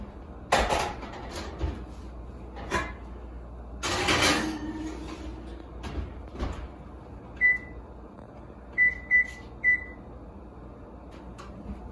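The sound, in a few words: oven being set to preheat to 450 degrees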